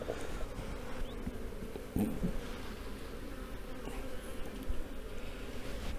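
Honeybees in an opened hive during an autumn brood inspection, a steady dense buzzing drone throughout with a brief bump in loudness near the two-second mark, no talking.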